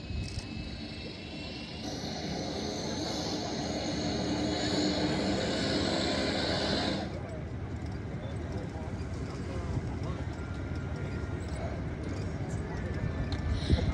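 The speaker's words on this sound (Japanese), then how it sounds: "ナンバー2エンジンスタンバイマーク。" A miniature P-3C Orion model aircraft engine starts up at an air base spring festival, whining high and strong before dropping away midway to a rougher, lower hum, while an announcer speaks over it.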